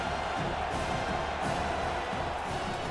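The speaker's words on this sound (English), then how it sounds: "Big third down as the crowd gets behind this defense" Stadium crowd roar from an American football video game, a broad steady swell of cheering for the defense before a big third down, heard from a distance and holding at a constant level.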